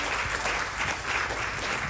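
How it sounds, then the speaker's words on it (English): Crowd applause at a Ganesh Chaturthi utsav honouring the officiating Vyaas, a brief, continuous burst of many hands clapping at steady volume. "And once more, please give Vyaas ji another round of applause."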